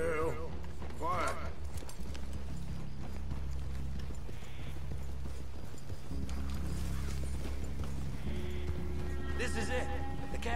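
Horse hooves clip-clop steadily in Red Dead Redemption 2 as riders approach a cabin, a rhythmic plodding beat under low ambient music, with voices talking and a brief whinny.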